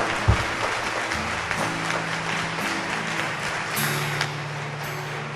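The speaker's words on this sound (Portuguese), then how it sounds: "Aplauda com força esse mistério de nosso Senhor Jesus Cristo." A church congregation clapping during worship, dense, sustained applause that holds steady, with sustained low organ or keyboard tones sounding beneath it.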